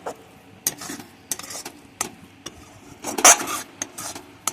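Chhana is stirred nonstop in a kadai as it dries into a dough, producing repeated close scraping and rubbing strokes of a spoon against the metal pan, with one louder clatter near the end.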